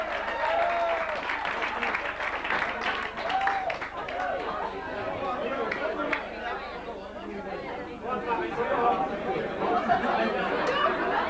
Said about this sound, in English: Give a round of applause for the one and only Johnny Clark.